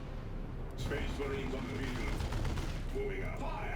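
Muffled gunfire crackles and rumbles continuously in a Warhammer 40K: Dawn of War II battle, mixed with mechanical noise. Excited voices talk over it throughout.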